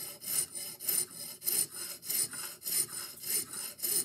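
Hand saw cutting through a frozen babbitt bearing in an Edison Triumph phonograph, steady rhythmic back-and-forth rasping strokes about twice a second, close and even, with no talk.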